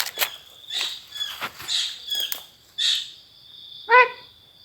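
Several short bird calls and chirps outdoors around rocks, spaced irregularly, with one clearer, louder call near the end, fairly close and alone without speech.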